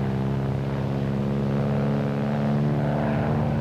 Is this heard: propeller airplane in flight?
yes